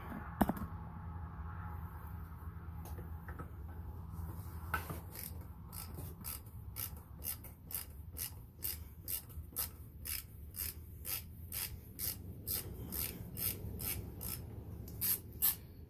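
A ratchet wrench, 1/2-inch drive on a short extension, loosens the 13 mm oil drain plug under a Chrysler Pacifica minivan. After a quiet low rumble, a steady run of close, crisp ratchet clicks sounds alone, with no talk.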